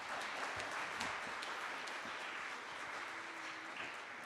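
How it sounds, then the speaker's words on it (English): Audience applause after a piano piece at a Harvard symposium lecture, a faint, distant, steady rush of many hands clapping with a few individual claps popping through. "Can we please have one more round of applause for that beautiful piano piece?"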